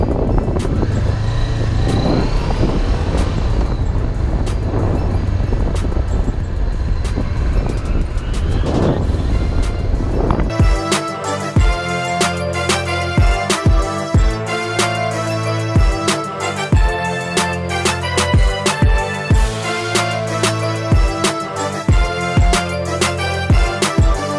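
A motorcycle engine revs under open throttle with loud wind buffeting, then settles into a steady idle-like running note with repeated sharp ticks and bumps.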